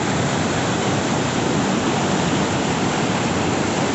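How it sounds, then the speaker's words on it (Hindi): The Bhagirathi (Ganga) river flowing down from the mountains near the Kedarnath trek, a steady loud broadband roar of rushing water with no breaks or voices. "कुछ इस तरह से नदी बहते हुए आ रही है ऊपर से।"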